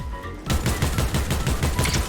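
Fortnite gunfire rattles out as a rapid burst after a short quiet lead-in, a dense run of repeated close shots lasting about two seconds with no speech over it.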